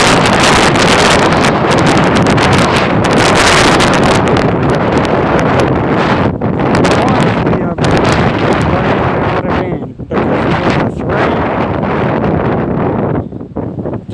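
Strong wind from the outer band of Hurricane Delta roars and buffets the microphone continuously, loud and close, with gusty rustling throughout and no talk.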